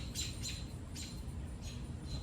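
A bird squawks and chirps in short repeated high calls while a dog attacks it outdoors near a lake, over a steady background rumble.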